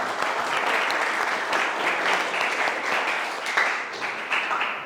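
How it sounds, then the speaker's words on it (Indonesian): Classroom applause for a teacher during an Islamic studies lesson, many hands clapping in a dense, steady wash with a few sharper individual claps near the end, no voices over it. "Tepuk tangan."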